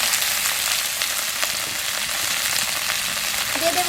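Chopped beans hit hot oil in a wok, stir-fried for prawn chow mein. A loud, dense sizzle runs nonstop with no talk, and a short clink of the utensil comes near the end.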